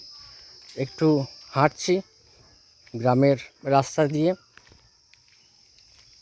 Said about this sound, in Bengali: পাখি ডাকছে এদিকে আবার ঝিঝি পোকাওটা কিন্তু ডাকছে